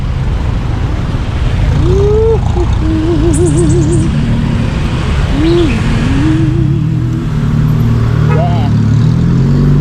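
Road traffic on a narrow, congested street in Balintawak near an NLEX entry, with a steady car and engine rumble close by, bird chirps now and then, and people talking over it.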